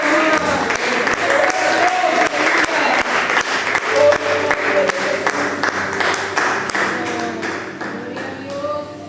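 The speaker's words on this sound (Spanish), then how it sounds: "ese aplauso al Señor en esta mañana" A church congregation claps together during a Sunday morning sermon, a dense, steady round of applause with rhythmic hand beats lasting several seconds, voices mixed in beneath.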